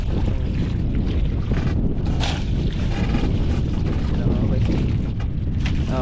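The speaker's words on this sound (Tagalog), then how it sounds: "Ihip na naman ang amihan mga bay." Strong northeast monsoon wind buffets the microphone at sea aboard a fishing boat, a loud, steady roar with gusty rumbling and no clear speech.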